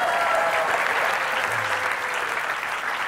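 A studio audience at a television show claps in a dense, steady burst of applause that holds at full strength without fading.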